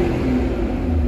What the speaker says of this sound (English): Just gives car a little rev for you.